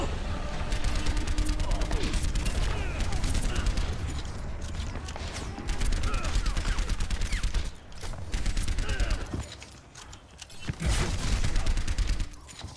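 Gunfire on the Blizzard World map in the video game Overwatch, dense rapid bursts of automatic shots with mechanical clanks, loud and close, pausing briefly a few times before resuming, with speech mixed in.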